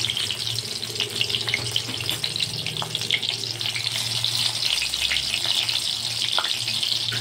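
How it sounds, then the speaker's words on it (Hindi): Eggplant pieces frying in hot oil in a kadhai, a dense, continuous close sizzle and crackle that holds steady throughout, with no talking. "अब हम अपने जो बैंगन हैं देखिए उसको इस तरीके से तेल में रख के फ्राई करेंगे अपने सारे बैंगन को"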